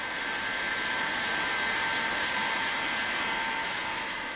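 A hot-air welding torch blows steadily while welding a rigid PVC chimney onto a tank, a loud, even, close-up hiss that holds without a break.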